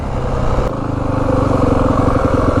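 A 2025 Yamaha WR450F dirt bike with its first mods runs loud and close, a steady throbbing engine note that holds level throughout, with one sharp click near the start.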